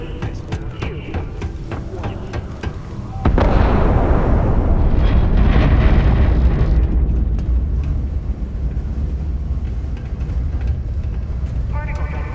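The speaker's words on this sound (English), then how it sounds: "Particle detonation concluded." A particle detonation explodes on Mars in the game Starfield: after quieter sounds, a sudden deep, booming blast hits and then rolls into a long, loud rumble that slowly fades, with voices heard alongside.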